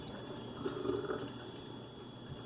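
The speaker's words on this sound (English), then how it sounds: "I'll do that over the sink. And then I'll give it a rinse." Plum tomatoes are rinsed under a running sink tap, giving a steady, soft stream of water splashing with faint dripping, continuous and moderately close, with no voices.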